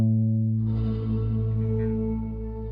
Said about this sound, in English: if I make this all the way to the max, you'll hear the full signal get delayed